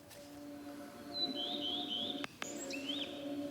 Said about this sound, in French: Le chant d'oiseaux.